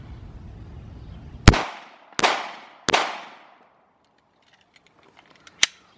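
Three loud, sharp Glock 19 pistol shots ring out at a refrigerator outdoors, spaced under a second apart, each with a short decaying echo, then a lone fourth sharp crack after a quiet pause.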